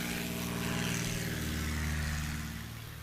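A Cessna 170 light propeller plane rolls for takeoff at a STOL competition airpark, its engine drone loud and steady before easing slightly at the end, with no talk.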